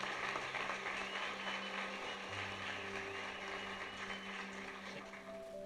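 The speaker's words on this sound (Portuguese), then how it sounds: "Vamos aplaudir Jesus por isso?" A church congregation applauds inside the worship hall, a steady wash of clapping holding at an even level throughout, with sustained keyboard-like tones ringing softly underneath.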